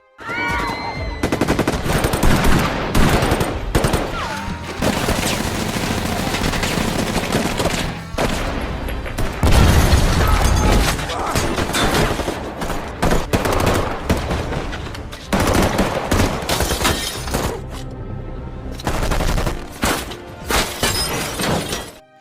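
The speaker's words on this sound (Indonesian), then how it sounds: "hingga terjadilah baku tembak" Heavy gunfire in an action film shootout with a SWAT team: dense, continuous bursts of automatic fire, crashes and shattering debris, loud and close throughout with brief gaps, no speech.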